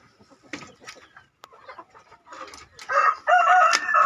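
Young Jejalon chickens crow and cluck close by, with scattered clucks at first and then louder, raspy crowing calls toward the end.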